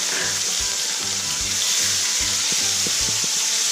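Tomato pieces sizzle as they drop into hot mustard oil with dry red chilli, bay leaf and panch phoron while cooking musur dal with young jackfruit, giving a steady loud frying hiss with faint clatter, no voices.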